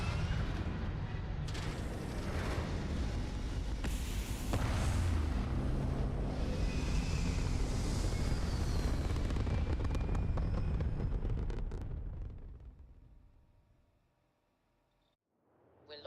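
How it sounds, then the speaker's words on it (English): Spaceship thrusters fire in the Starfield video game as a loud, continuous roaring rumble with booming bursts, holding steady for about twelve seconds before fading away to near silence. "All thrusters firing."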